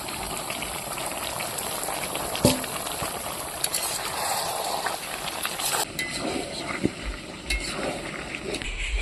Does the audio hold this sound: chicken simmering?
yes